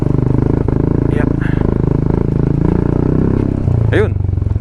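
A motorcycle rumbles at low revs while picking its way over a rocky trail, its engine pulsing with occasional clatters and bumps, close and loud throughout, with someone talking over it.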